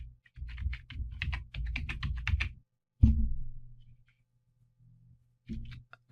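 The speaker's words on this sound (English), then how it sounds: "type in the name of the plugin that you're looking for" Computer keyboard typing a plugin name into a search box, a quick run of close, crisp keystrokes followed by a single sharp key press, then a pause and a few more clicks.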